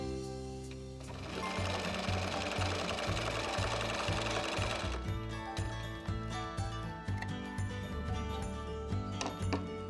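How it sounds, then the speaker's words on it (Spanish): Sewing machine stitching along the edge of a fabric pencil case, a loud rapid mechanical whirring with steady needle thumps that changes pace partway through, no talking. "la máquina va a dar, la aguja va a dar una puntada dentro de la tela y otra fuera"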